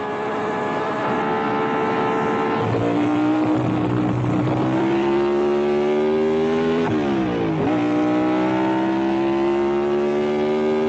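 Ferrari Grand Prix race cars scream past on the last lap, several high-revving engines overlapping and shifting pitch as they close up nose to tail, loud and continuous.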